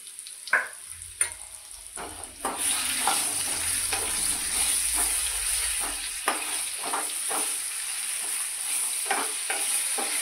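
Potatoes for dum aloo frying in a pan until golden, a steady hiss of oil with a bright constant sizzle and recurring spoon scrapes and clicks as they are turned, close and moderately loud.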